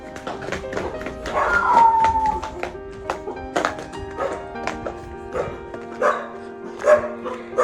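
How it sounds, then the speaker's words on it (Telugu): Several stray dogs barking and yelping on an empty platform at Kurichedu railway station, with repeated irregular barks at close to mid distance and a brief whimpering stretch among them. "ఈ టైంలో ట్రైన్ లేకపోయేసరికి ఈ కుక్కలు తప్ప ఇంకెవరు లేరు ఇక్కడ."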